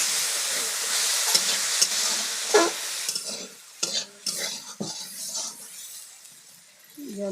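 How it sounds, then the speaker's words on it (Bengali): Water added to a pan of cooking dheki shak with potatoes, a strong sizzling hiss up close that fades, followed by scattered stirring scrapes and clinks. "এবার আমি জল দিয়ে দিচ্ছি।"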